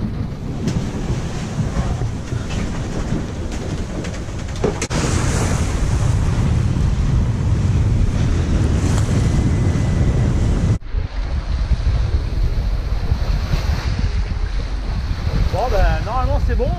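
Waves wash over a sailboat at night in the Gironde channel, a continuous loud rush of water and wind against the hull that grows fuller partway through, with a sharp cut and quieter churning near the end.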